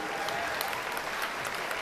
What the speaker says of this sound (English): let's have a round of applause for all of our exhibitors